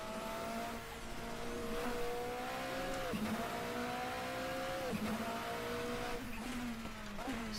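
A 1990s endurance race car roars around a circuit in a racing video game, its engine note rising through the gears with repeated sharp drops at each shift, loud and constant throughout.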